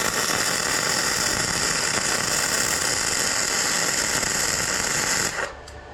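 A Blue Demon 140MSI welder lays a bead, producing a steady, close crackling hiss that runs unbroken for about five seconds before stopping abruptly.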